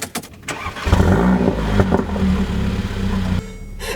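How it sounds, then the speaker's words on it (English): A 2014 Mercedes-Benz CLA45 AMG starts up: a brief starter crank bursts into a loud, close exhaust roar that holds for a couple of seconds before dropping away. "every time you start this car up, it like does this normal roar and then just and there's this little crackle"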